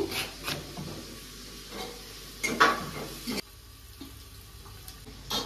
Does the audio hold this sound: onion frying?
yes